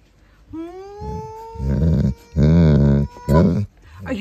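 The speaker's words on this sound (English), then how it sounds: "Are you growling at me?" A pet wolf makes low, rumbling growl-like vocal sounds in several drawn-out bursts, close and fairly loud.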